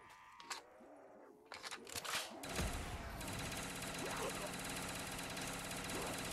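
Rapid gunfire from Black Ops 3 Zombies on a zombie tower challenge map rattles in a dense sustained burst after a few scattered shots and some game sounds, with a voice speaking faintly.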